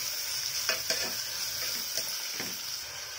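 Onions are browning in a pan for an Odia chicken curry, giving a steady hissing sizzle. Several distinct scraping strokes from stirring cut through it, and no voices are heard.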